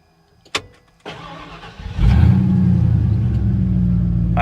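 A Ford F150 truck engine cranks briefly after a click and a clunk, then catches and settles into a loud, steady rumbling idle close by.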